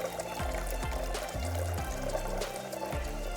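Liquid pours steadily into a vessel during a chemistry demonstration of a reaction rate, giving a continuous rushing, splashing wash with low rhythmic thumps underneath.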